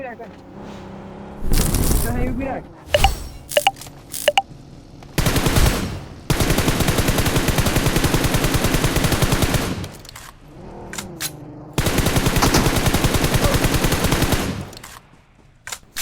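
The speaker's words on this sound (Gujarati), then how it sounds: "પાછળથી અમને ફાયરિંગનો સાઉન્ડ આવે છે" Gunfire in a shooting video game: several sustained bursts of rapid automatic fire, loud and close, broken by short pauses and scattered single shots.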